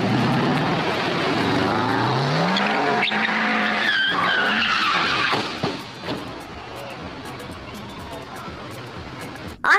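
A supercar's tires skid loudly and continuously with engine roar for about nine seconds, driven away from a tennis match, then the sound drops off and ends with a short burst.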